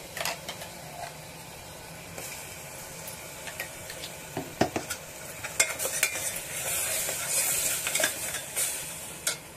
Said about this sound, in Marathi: तर तेल सुटस्तोवर भाजून घ्यायचं।